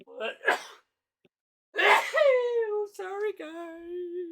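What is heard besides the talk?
sneeze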